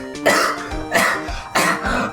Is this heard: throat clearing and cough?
yes